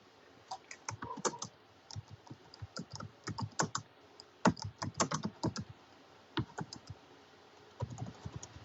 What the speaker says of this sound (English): I'm having to type on the computer to Leah.